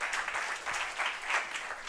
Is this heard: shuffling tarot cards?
no